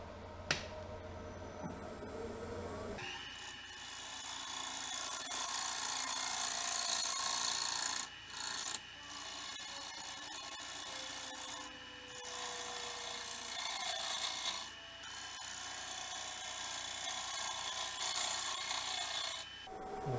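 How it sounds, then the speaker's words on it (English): A bowl gouge cuts a cottonwood bowl on a lathe, using only the point without riding the bevel, giving a steady, scraping, rasping hiss with a few brief pauses as the tool lifts away. "I'm not riding the bevel at all. I'm trying to cut with the very point."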